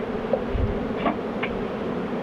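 Honeybees hum steadily at an open hive in a close, continuous drone, with a few individual buzzes flitting past.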